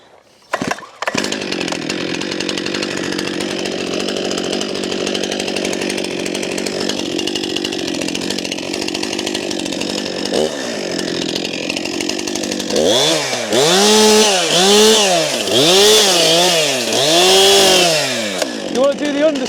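A chainsaw runs steadily during tree felling, engine held near full throttle, then rising and falling in repeated revving surges toward the end as it works through the wood, loud and close throughout.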